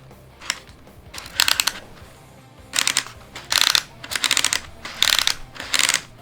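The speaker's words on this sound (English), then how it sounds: "There's like these little cardboard tabs in the bottom that are making those noises." Clusters of rapid clicking rattles come in short bursts, each a quick ratcheting flurry of small cardboard tabs in a Nintendo Labo VR kit, close and crisp with brief pauses between.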